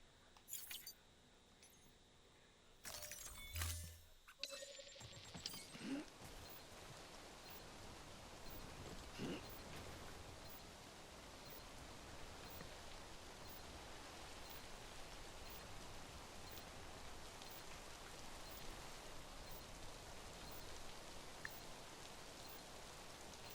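Steady rain in the video game Death Stranding, a dense, even hiss of falling drops that continues for the whole stretch after a few brief clicks and knocks at the start, with no speech.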